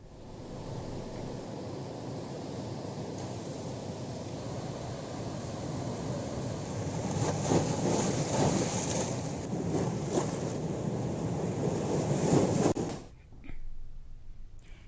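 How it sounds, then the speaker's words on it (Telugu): Floodwater pouring from the raised gates of the Srisailam dam on the Krishna river, a loud continuous roaring rush with wind buffeting the microphone, cutting off abruptly near the end. "ఎగువ నుంచి వరద పోటెత్తడంతో మొత్తం 10 గేట్లు ఎత్తి నీటిని కిందకు వదులుతున్నారు"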